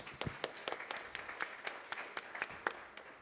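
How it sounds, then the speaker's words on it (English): Audience at a community discussion forum applauding itself, light scattered clapping with distinct individual claps at an uneven rhythm, moderately close in a fairly small room. "Would you give yourselves a round of applause?"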